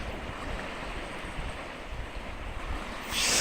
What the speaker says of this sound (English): there were waves coming in from Gould's Inlet into a little stream